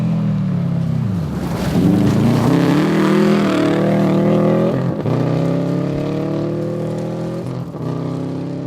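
A rally car on a forest stage of the 2012 Olympus Rally roars past up close, its engine note climbing and then dropping as it nears and goes by, loud and continuous with no talk.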